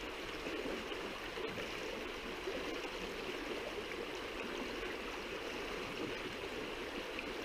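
Small river flowing steadily, a continuous close rush and babble of water holding even for the whole stretch, with no voices over it.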